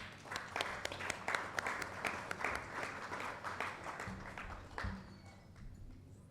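An audience at an awards ceremony and open-mic poetry event applauds an honored guest, a steady wash of many hands clapping at moderate distance that thins slightly toward the end.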